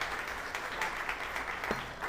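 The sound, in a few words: applause for Sam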